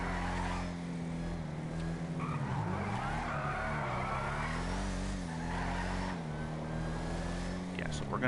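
A car drifting in GTA Online, with long, wavering tire squeal over a steady engine drone, the pitch swooping as the car slides, continuous and fairly close.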